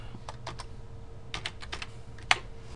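Typing an Excel formula on a computer keyboard: a handful of light, close key taps in small irregular clusters over quiet background hum, ending with a sharper keystroke, no talking.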